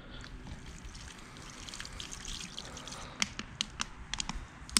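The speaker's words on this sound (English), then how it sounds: "let's hit it with some cold water" Cold water from a hose rinses degreaser off grimy, greasy surfaces in a garage or patio, a low steady splash and trickle with sharper drips and spatters building toward the end.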